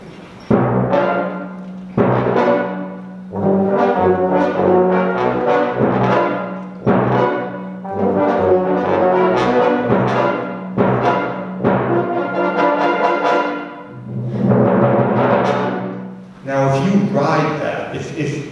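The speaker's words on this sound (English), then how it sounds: "So here's what just that bass line is going to sound like." A deep orchestral bass line plays in sustained, phrased notes, loud and continuous with brief pauses between phrases, joined by higher harmonic instruments.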